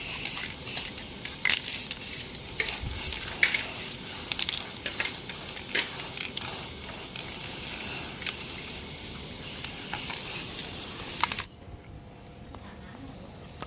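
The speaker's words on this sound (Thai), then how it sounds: "สเปรย์วานิชใส่นะครับ" Aerosol varnish sprayed onto a new replacement coil of a Daikin FTKC12PV2S air conditioner: a steady, close hiss runs for about eleven seconds, then cuts off abruptly, leaving near silence.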